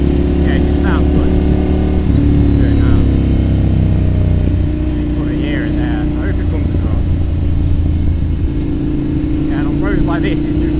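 A Ducati Monster 796 S2R motorcycle engine rumbles loudly and close, with a deep, steady idle broken by a few revs and gear-change shifts in pitch, while someone talks over it throughout.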